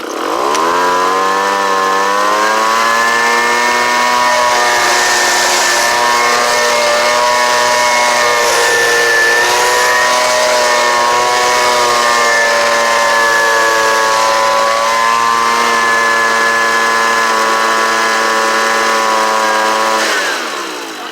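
A Homelite UT09250 small engine, running again after carburetor repair, cranks and then revs at a loud, steady pitch for about twenty seconds before cutting off abruptly.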